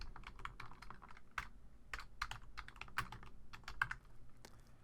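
Quiet, irregular clicks of a computer keyboard being typed on in short bursts, close by, in an otherwise still room.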